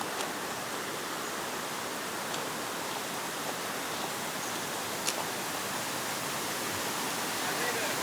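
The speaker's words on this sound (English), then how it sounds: "we walk up to another little waterfall" A small waterfall beside the railway tracks on the trek to Machu Picchu pours with a steady, even hiss of falling water, continuous and moderately close, broken only by a couple of faint ticks.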